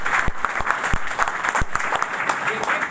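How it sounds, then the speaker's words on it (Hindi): Applause in a hall during a business talk on the Bhagavad Gita, a steady patter of clapping from a seated audience with a few sharp individual claps standing out. "इनके लिए एक अच्छी ताली बजाइए"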